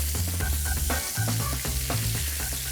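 A cinnamon stick and star anise are stirred with pork belly in a hot pan, giving a continuous close sizzle with repeated clinks and scrapes of the utensil against the pan and no talking.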